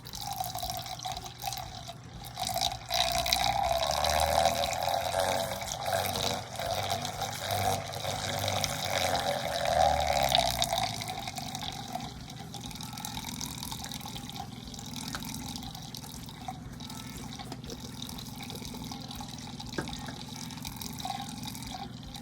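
A magnetic stirrer runs in a bottle, mixing liquid tie-dye made with chem water, giving a faint, steady swirling and watery churn with a soft low hum, slightly louder in the first half before settling.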